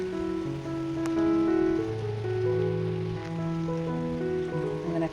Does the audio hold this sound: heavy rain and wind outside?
yes